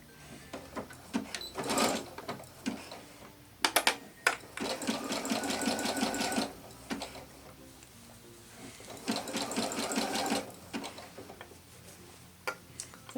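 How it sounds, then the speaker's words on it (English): A sewing machine stitches a jersey neckband onto a garment in short bursts of rapid mechanical ticking, close and fairly quiet, separated by brief pauses and occasional clicks as the fabric is adjusted. "So I'm just going to start sewing it now."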